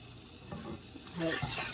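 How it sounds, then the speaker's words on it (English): A whisk stirs a roux in a pot, giving a soft, brief scraping and sizzling swirl that grows a little louder toward the end, with no voices. "You're just gonna stir it in, whisk it in rather."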